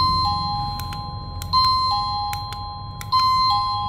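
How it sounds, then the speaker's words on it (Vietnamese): A plug-in wireless gate doorbell chime rings out clearly, repeating its two-tone ding-dong pattern three times in steady succession, with faint clicks between the tones and no talking. "Lên cho em là chuông cổng nhá, chuông cổng đây."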